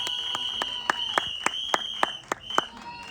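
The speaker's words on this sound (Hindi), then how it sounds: "तालियां." Sparse, sharp claps from an audience at a Bollywood film trailer launch, scattered single hits over a steady high tone.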